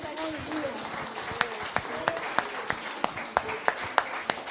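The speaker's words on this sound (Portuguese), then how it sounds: "Aplauda o nome do Senhor Jesus." Church congregation clapping during worship, a faint background of hands with a regular series of sharper claps in a steady rhythm, a voice heard at the start.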